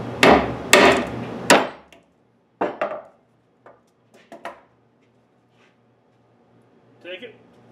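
A 3-pound hammer pounds a wooden pallet in three loud, close blows, followed by scattered sharper knocks and taps that grow fainter, with a short scraping rattle near the end.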